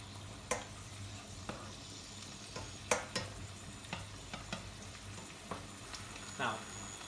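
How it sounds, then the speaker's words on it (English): A spoon stirs puttanesca sauce of tomato, capers, anchovies and chili simmering in a pan, giving scattered scraping knocks over a steady low sizzle, fairly quiet and close. "And we stir our sauce."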